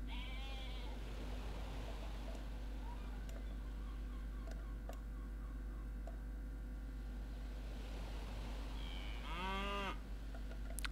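Cattle mooing in Civilization 5, with one low drawn-out moo at the start and another louder moo near the end over a steady ambient bed and faint scattered calls.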